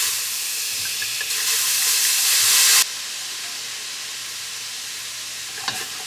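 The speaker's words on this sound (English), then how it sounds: "I just want to use it to deglaze the bottom, get all of those delicious bits up." White wine poured into a hot soup pot bursts into a loud, steady sizzle and hiss, then drops to a softer, lingering sizzle as it is stirred, with a brief metallic clink near the end.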